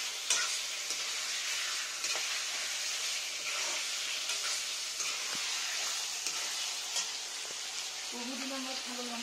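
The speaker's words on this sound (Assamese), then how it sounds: "এতিয়া মাংসবিলাক দি দিলে পুৰা ভাজি আছে" Goat meat fries in a pan with a steady, even sizzle, punctuated by occasional light stirring scrapes; a faint voice enters near the end.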